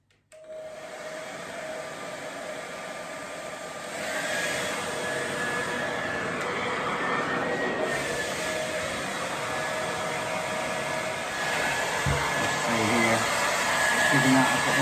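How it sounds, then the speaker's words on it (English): A hair dryer on a cool setting blows steadily and loudly, up close, as it dries a washed down jacket, a continuous airy roar with faint shifts in pitch as the nozzle moves. "make sure that obviously the hairdryer is on a cool setting as well"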